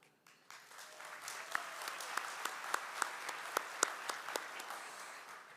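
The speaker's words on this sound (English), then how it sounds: "if you would please stand so we may honor you with a round of applause" Audience applause at a college convocation honoring trustees, with a modest round of distinct claps rising after a short pause and holding steady, heard from some distance in a large room.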